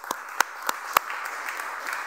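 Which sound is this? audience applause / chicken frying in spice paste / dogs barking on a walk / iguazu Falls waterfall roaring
audience applause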